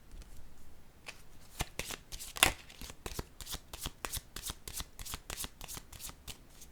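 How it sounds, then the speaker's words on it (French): Tarot cards being shuffled by hand and drawn from the deck, a quick run of soft riffling flicks and taps close up, with one sharper slap in the middle and no talking. "Je vais piger une carte ici pour clarifier."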